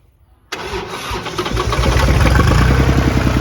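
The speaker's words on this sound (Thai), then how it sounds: "เครื่องดีอ่ะเดี๋ยวลองสตาร์ทให้ดู คราวนี้ไม่ต้องเผาหัวนะครับ ติดเลย" Iseki TS3110 31 hp 4WD tractor diesel engine starting cleanly after a brief quiet moment, catching at once and settling into a loud, steady, near idle rumble.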